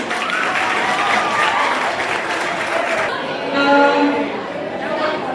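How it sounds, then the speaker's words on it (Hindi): Loud applause from students at a school farewell party for 10th graders in Kurla, dense clapping for about three seconds that tapers off into crowd chatter and a sustained voice. "बच्चों जोरदार तालियां"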